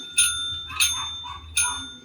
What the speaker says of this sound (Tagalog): Touch mo yung bell.